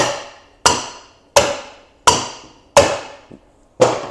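Six sharp metallic hammer whacks on a valve spring compressor set on a cylinder head on a workbench, spaced roughly evenly with short ringing decays, close and loud with no talking.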